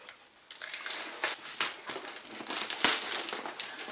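Scissors snip and slice through packing tape on a heavily taped cardboard box, giving a run of crinkling, crackling cuts and rustles at close range with no talk.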